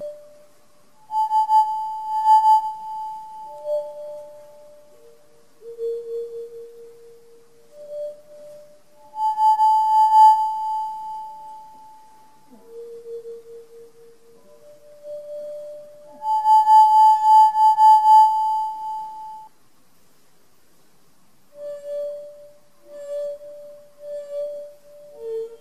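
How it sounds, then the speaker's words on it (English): Pure sustained ringing tones from a resonating wine glass partly filled with water, several separate rings at shifting pitches, each swelling and holding for a few seconds before fading, clear and close with quiet gaps between. "If you look closely at the edge of the water in a resonating glass, you can see standing waves being created."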